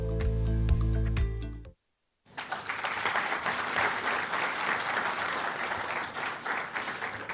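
After a brief musical passage and a moment of silence, an audience at an international arbitration conference welcomes the Chief Justice of India with steady, full-room applause that continues to the end.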